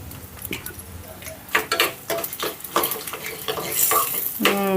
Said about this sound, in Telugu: మనకి పోపు అంతా చక్కగా వేగిపోయిందండి